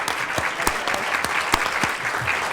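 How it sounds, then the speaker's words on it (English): Applause from a council meeting audience, a steady mass of clapping hands with a few louder individual claps standing out, sustained throughout. "Let's give the family and Mr. Williams a round of applause, please."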